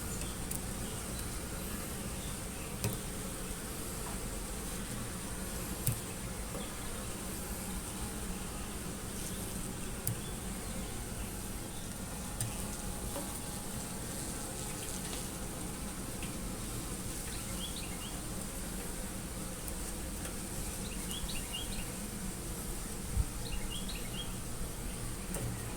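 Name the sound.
bees buzzing around hatching drone bee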